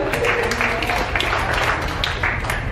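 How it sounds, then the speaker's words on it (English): School audience at Gems International School clapping for a student, a dense, steady round of applause from a crowd, loud and continuous throughout. "Give her a round of applause"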